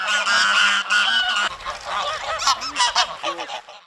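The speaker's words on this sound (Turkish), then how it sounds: "Koca Çukur'da bulunan gölette yaşayan kaz ve ördeklere de yem verildi." Geese honk repeatedly at a pond where geese and ducks live, loud close calls in bursts, first longer blasts and then a quicker run of shorter honks.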